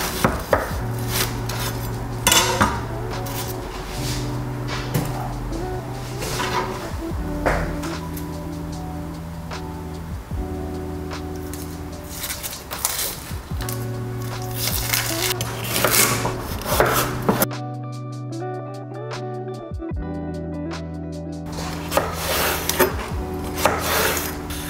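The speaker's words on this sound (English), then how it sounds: "Firstly, I'm going to prepare an onion." An onion is chopped on a wooden board for a vegan meal, with steady, repeated knife strikes close up, interrupted by occasional scraping and rubbing sounds.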